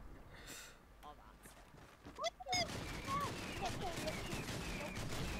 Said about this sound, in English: There's rockets, help!